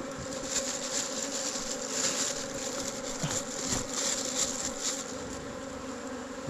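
A swarm of honey bees flying back to their nest produces a steady, close, droning buzz with slight swells in intensity and no speech.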